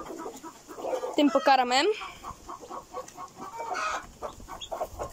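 Chickens cluck and crow-like call at a feeding in a backyard coop, several close birds vocalizing in bursts while someone speaks in Polish over them.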